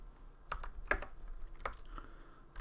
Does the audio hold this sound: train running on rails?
no